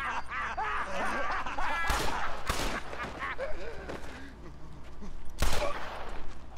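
Gunfire in the Western video game Red Dead Redemption, three sharp loud bursts cutting through layered game noise and ongoing talk.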